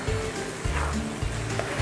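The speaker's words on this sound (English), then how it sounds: "we're going to toss it into our tomato and jalapeno mixture. We're just going to stir that up real quick a little bit" Uncooked bacon is stirred into a tomato and jalapeno mixture in a pan over low heat, giving a soft steady sizzle under repeated scraping strokes of a utensil.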